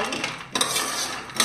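Peanuts roasting in a pan, heard as a short burst of metallic clinks and scraping with a louder clatter partway through, close and alone with no talk.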